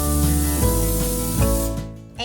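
Cooking spray hisses from a can onto a meatloaf pan in a home kitchen, in several loud, close bursts over about two seconds with a short pause between them, and no one talking.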